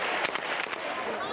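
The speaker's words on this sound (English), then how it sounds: "gunfire and bullets ripping through the air" Several sharp gunshots burst in quick succession over a dense, noisy crowd roar at a Syrian protest clash with troops, with distant voices shouting throughout.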